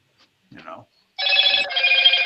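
A Motorola mobile phone rings with a bright, tonal electronic ringtone that starts abruptly partway through and keeps going loudly and close by, after a brief murmur of voice.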